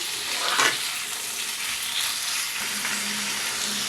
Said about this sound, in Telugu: ఇప్పుడు ఈ రొయ్యలను వేసేద్దాం వీటిని చక్కగా క్లీన్ చేసాం కదా వీటిని ఒకసారి బాగా కలుపుకొని ఉప్పు పసుపు వేసుకుందాం